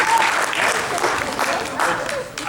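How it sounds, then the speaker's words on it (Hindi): Audience applause at a school function: dense, sustained clapping from a large seated crowd, fairly loud and steady throughout with slight swells, with no talk over it. "तालियां बजाएंगे।"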